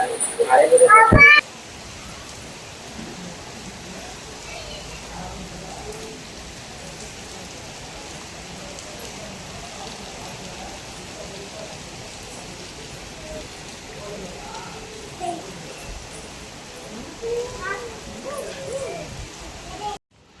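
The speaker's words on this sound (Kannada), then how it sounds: "ಮಳೆ ಜೋರಾಗಿ ಬರ್ತಾ ಇದೆ" Steady rain patters and hisses for a long stretch, with a loud burst at the start and a few faint sounds near the end.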